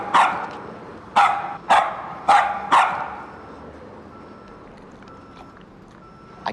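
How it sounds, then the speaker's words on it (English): A small dog barks five sharp, evenly spaced times, fairly loud and close, indoors, followed by a quiet room tone with faint background hum. "this little guy will bark his head off."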